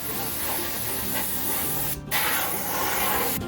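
Steady close hiss of an aerosol or spray gun coating an old cattle squeeze chute, running continuously with one brief pause before the spraying resumes.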